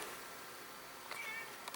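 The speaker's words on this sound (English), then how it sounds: "He likes to meow." A short, faint cat meow rises near the end, followed by a couple of soft clicks against quiet room noise.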